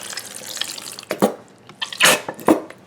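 Salad dressing from a 15-ounce bottle is poured onto warm pasta, giving close, uneven liquid glugs and splashes in a few bursts separated by short pauses.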